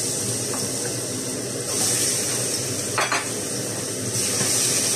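Pork belly fries in cooking oil with a steady, dense sizzle that holds throughout, close and even, with a couple of brief louder crackles and spits partway through.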